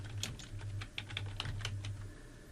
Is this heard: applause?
no